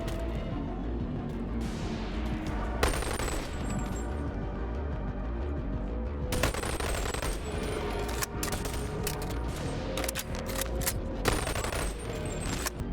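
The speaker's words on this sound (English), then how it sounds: "this hallway, I just sat back and shot with a semi-auto" Semi-automatic gunfire in the VR video game Boneworks comes as a handful of sharp, loud shots spaced irregularly through a hallway fight, over a busy background of game noise.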